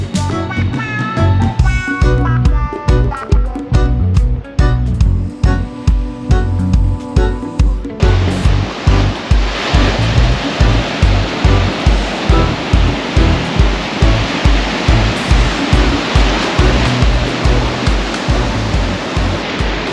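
Waves rolling onto the wide beach of Playa Grande in Arraial do Cabo, Brazil: a loud, steady wash of surf that fills the scene, preceded by rhythmic music.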